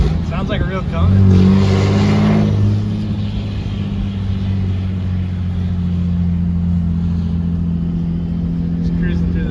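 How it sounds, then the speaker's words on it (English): A 6.7 Cummins diesel truck engine with a non-VGT S363 turbo rumbles close by with a deep, steady drone, briefly swelling louder near the start before settling into an even cruise. "Sounds like a real Cummins."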